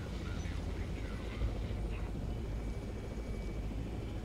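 A helicopter's rotor thrums in a low, steady chop in Jurassic World Evolution, a continuous close engine drone with faint higher tones above it.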